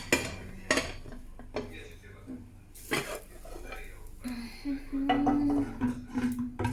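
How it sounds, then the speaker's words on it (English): Stirring food in a pot with a utensil, intermittent scrapes and clinks against the metal alongside pot handling, with people talking in the background. "Stir it."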